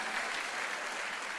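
A church congregation claps during a sermon, a short, steady wash of many hands applauding at moderate distance, fairly soft and even.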